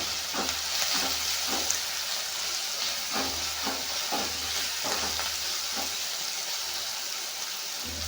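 Masala sizzling and frying in a hot pan, a steady close hiss with intermittent stirring scrapes throughout, no voices.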